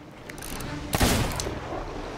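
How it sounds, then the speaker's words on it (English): A single heavy cannon shot booms out in the pirate video game Sea of Thieves during a megalodon fight, a sharp broadband blast near the middle followed by rumbling decay over steady background game noise. "I have not hit him in a while with the cannonballs."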